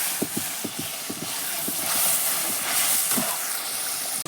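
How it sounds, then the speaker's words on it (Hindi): Masala spices roasting in oil in a pan for a bottle gourd (lauki) curry, giving a steady hiss-like sizzle with scattered soft pops and clicks of stirring, close and continuous, no voices. "देखो मसाला भी मेरा भून रहा है।"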